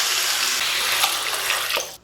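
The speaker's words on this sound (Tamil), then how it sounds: "இப்போ இதில் ஒரு 1/2 கிளாஸ் தண்ணி சேர்த்து காய் மூடி போட்டு நல்லா வேக வச்சு எடுத்துக்கணும்." About half a glass of water pours steadily into a pan of vegetable masala side dish, a loud continuous splashing gush that ends abruptly near the close.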